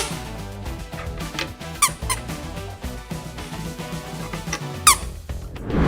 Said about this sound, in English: These durable plastic squeakers produce an unmistakable loud squeak sound